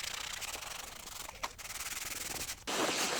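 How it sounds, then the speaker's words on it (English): Sandpaper and a sanding sponge rub back and forth over paint runs on oak stair rails, a close, hissing scrape in short strokes with brief pauses between passes. "Then I'll use sandpaper and sanding sponges to smooth out the area."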